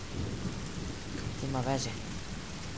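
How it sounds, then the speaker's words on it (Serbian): Steady rainfall with low thunder rumbling through a stormy forest in the survival game The Forest, constant and fairly close, with a man's brief spoken words breaking in near the middle. "Pošla da pada kiša."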